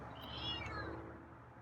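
A feral cat meows once, drawn out and close, with a rising then falling tone over a low background rumble.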